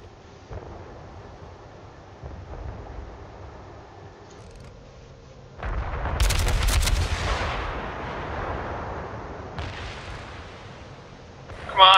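Heavy artillery fire in a video game: a loud, booming blast burst around the middle of the clip that settles into a lingering rumble, with quieter distant thuds before and a sharp report at the very end.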